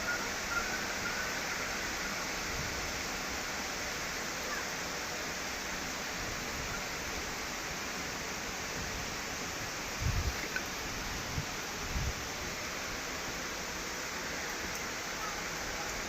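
Heavy rain in Chittagong, Bangladesh, pours in a dense, even hiss that stays constant throughout, with a few faint low thumps partway through.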